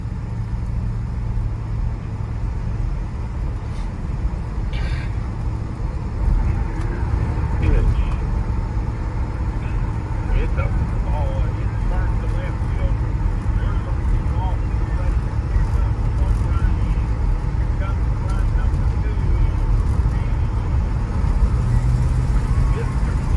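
A 1965 Buick Riviera cruises at around 45 mph, its steady engine drone and road rumble holding constant and close throughout, with no sharp changes in pitch.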